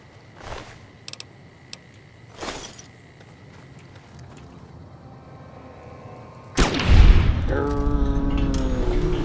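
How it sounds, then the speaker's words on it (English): Gunfire in the video game Fallout New Vegas: two distant booming shots with sparse mechanical clicks, then a louder burst of rapid shooting and mechanical rattling that keeps going toward the end. "That's all that gunfire was."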